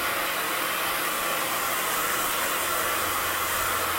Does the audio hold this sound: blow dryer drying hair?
yes